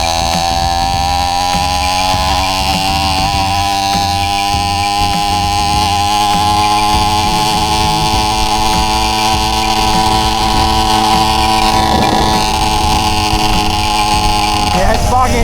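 A 100cc two-stroke engine on a homemade motorized bicycle runs steadily for the whole stretch, a loud, buzzing drone with layered harmonics that rises in revs near the end. Speech occurs briefly over the engine.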